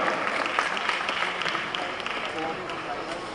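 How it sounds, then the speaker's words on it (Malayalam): Audience at a Malayalam movie launch event clapping in a dense, steady wash of applause, with a voice talking over it. "നല്ലൊരു കൈയടി പോടാ, കം ഓൺ."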